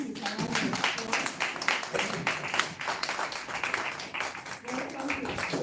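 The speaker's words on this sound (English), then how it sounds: "Let's welcome him with a round of applause" A room full of people claps dense, continuous applause as a life coaching course host is welcomed, with voices talking over the clapping throughout.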